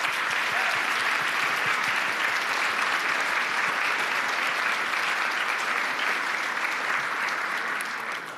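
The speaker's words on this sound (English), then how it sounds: "Give them another round of applause." Sustained applause from a large audience at the Munich Security Conference, steady and loud throughout with no pauses, fading slightly at the very end.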